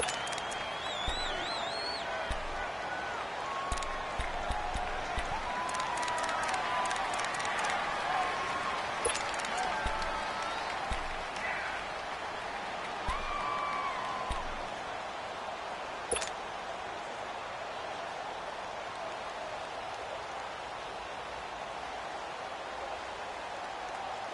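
Stadium crowd noise in an American football video game, a steady roaring wash with scattered shrill whistles and cheers rising over it, loud and sustained throughout without any speech.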